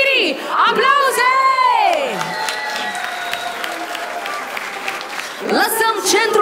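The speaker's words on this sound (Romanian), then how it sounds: "Și la aplauzele dumneavoastră se apropie și mirii! Aplauze!" Wedding guests at a Romanian reception clap and cheer as the bride and groom approach for their first dance, lively crowd noise with whoops and shouts, overlaid by loud sung or called-out voices, fading midway then rising again.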